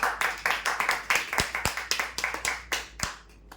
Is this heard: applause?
yes